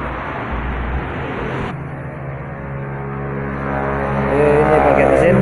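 A 2.5-litre non-turbo engine swapped into an Opel Blazer runs steadily at close range, a constant drone that rises in the last seconds. A voice can be heard faintly under it.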